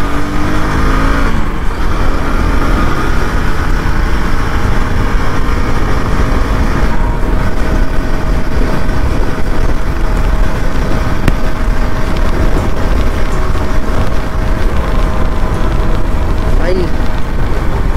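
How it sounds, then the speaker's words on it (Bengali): A KTM 250cc motorcycle engine accelerates hard while being ridden, a loud, continuous, close-up roar mixed with wind buffeting throughout. "চলো এবার একটু টানি বাইকটা।"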